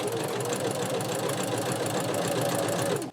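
A sewing machine runs a zigzag stitch along fabric for a Halloween skirt, giving a steady, loud, close mechanical whir with a fast regular rhythm that continues for about three seconds before cutting off.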